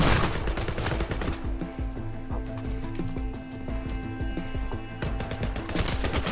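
Rapid bursts of machine gun fire in the video game Sword with Sauce, loud and close, with repeated automatic volleys sounding across most of the stretch and a brief quieter lull in the middle.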